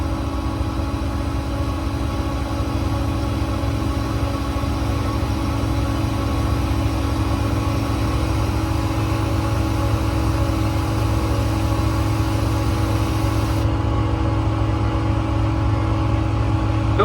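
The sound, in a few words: Boss BA440 hydraulic compressor running on Mack MD6 service truck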